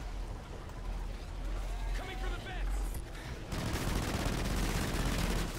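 A sentry gun fires in the Extinction Mayday game mode with a dense, continuous stream of shots amid busy game noise, under an excited voice.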